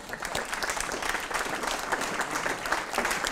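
After a presentation about the Schoonschip project, a roomful of people gives dense, sustained clapping at moderate loudness, with no voices over it.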